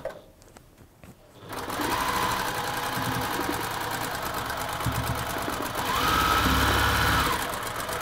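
A sewing machine stitches a seam on a Tilda embroidery flower quilt, running steadily and loudly for about six seconds after a quiet start, its motor whine rising slightly near the end.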